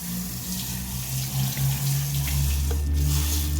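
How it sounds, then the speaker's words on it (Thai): Tap water sprays at low pressure from a faucet hose to rinse dust off an air conditioner coil, a steady, close, continuous hiss of water with no pauses. "ไอ้ ก๊อกน้ำเนี่ยหัวก๊อกไม่ต้องไปปรับให้มันแรงสูง เดี๋ยวขี้ล้มหมด ฉีดล้างฝุ่นภายนอกให้ชุ่มๆเลยนะครับ"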